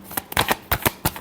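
A deck of tarot cards gets a final short shuffle of a few quick, crisp riffling snaps, close by and alone.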